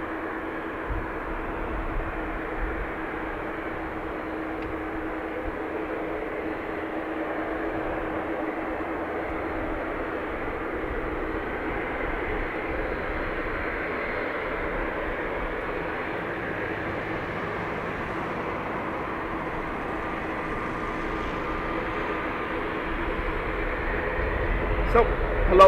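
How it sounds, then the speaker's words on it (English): Blue Islands ATR turboprop at an airport, a steady distant engine drone holding level throughout with faint background noise. "Blue Islands ATR making noise"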